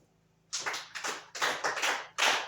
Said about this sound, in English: Everybody should clap for her.